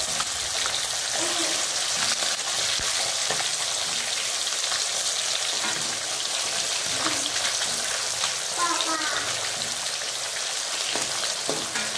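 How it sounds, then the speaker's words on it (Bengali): Fish pieces deep-frying in hot oil for a golden fish kalia give off a constant dense sizzle and crackle, close and steady, with faint occasional stirring sounds and no talking. "মাছগুলো ভাজা হয়ে গেছে, এইবার মাছটা তুলে নেব।"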